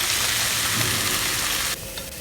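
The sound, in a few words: stir-frying amaranth stem greens with onions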